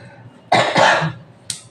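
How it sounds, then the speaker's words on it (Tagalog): A person coughs nearby in a quiet room: a sharp double burst of coughing, then a shorter single cough a moment later, with no talking over it. "Dahil may ubo-ubo po tayo eh."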